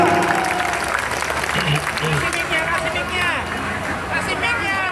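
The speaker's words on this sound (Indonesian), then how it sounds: "Berikan tepuk tangan terhadap ketua umum kita." Sustained crowd applause at a public gathering in Bekasi honouring an organisation's chairman, steady and dense clapping mixed with crowd babble and voices throughout.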